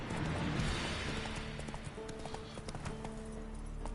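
Roach the horse galloping in The Witcher video game, with a fast steady clip-clop of hooves over a dense background rush and a faint brief vocal sound.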